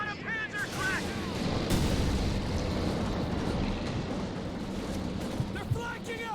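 Pack howitzer artillery in Company of Heroes 2 battle, heavy booming shots and explosions rumbling through a dense, continuous wash of combat noise.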